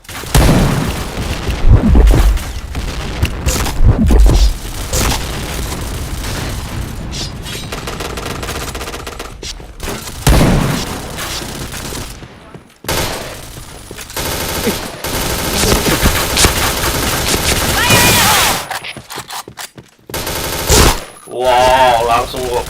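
Rapid automatic gunfire and booming blasts from a PointBlank first-person shooter match, loud and near, with bursts of fire broken by short gaps and players talking at times.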